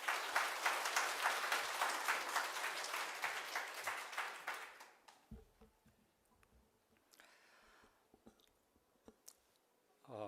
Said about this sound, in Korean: 함께 박수로 맞이하겠습니다.